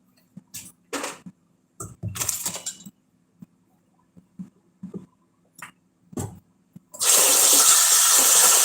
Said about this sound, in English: Before we start anything, we're going to wash our hands.